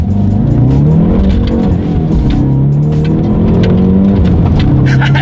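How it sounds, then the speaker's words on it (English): A 2019 Hyundai Veloster N accelerates hard, its exhaust droning loud and close with rising, shifting engine pitch and a brief lull before climbing again, no talking over it. "the exhaust note is ridiculous"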